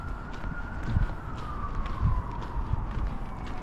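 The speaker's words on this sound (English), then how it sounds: "ambulance on the bridge" A faint ambulance siren drifts in the distance, its tone gliding slowly downward beneath steady street noise and passing footsteps on a bridge in Calgary.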